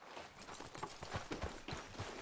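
Horse hooves clip-clopping at a walk in Red Dead Redemption 2, a steady rhythmic series of hoofbeats, fairly close, with no talk over them.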